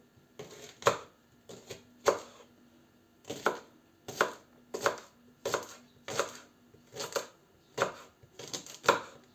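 A knife chops an onion on a board, about a dozen crisp, separate strokes falling in an uneven rhythm, some in quick pairs, close and clear with nothing else heard.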